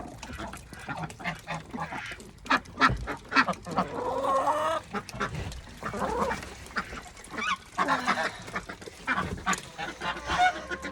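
Chickens clucking and a goose honking at a farm. Repeated calls overlap at close range and fairly loud, without pause.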